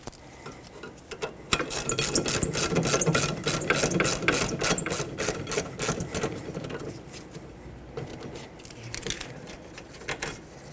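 A ratchet spins rusty brake caliper bolts loose on a 2006-2010 Hyundai Sonata, with a fast run of close, sharp clicking bursts over several seconds that thins out into sparser clicks toward the end.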